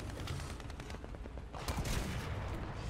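Tank gunfire in the War Thunder video game, rapid bursts of shots and a heavier blast midway, steady and fairly faint throughout, with no talk over it.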